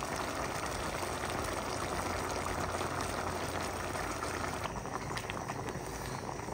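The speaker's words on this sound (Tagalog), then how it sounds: "At yan na po, kumukulo na po." A pot of mung bean stew bubbles at a vigorous, steady boil, with a continuous dense gurgling and popping close by, and no one speaking.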